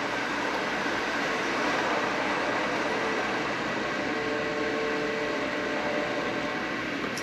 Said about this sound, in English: So the train's been running for a couple of minutes, and it's working pretty well